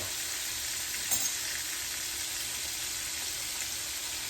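Onions sizzling in bacon grease in a pan, a steady low crackle and hiss throughout at moderate level with one brief stir or clink near the start, no voices.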